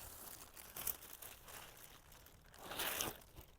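Soft crinkling and rustling of a plastic bag holding clothing close by, with a louder scrunch near the end, no voices.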